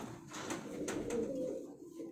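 Pigeons in a breeding loft coo softly in a few low, rolling calls, close by and fairly quiet against faint background noise.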